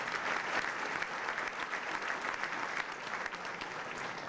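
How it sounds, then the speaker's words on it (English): Banquet audience at a scholar-athlete football dinner applauding the food service staff, a steady, dense round of clapping from many hands, moderately distant and even for over four seconds. "Let's give them a round of applause for feeding service."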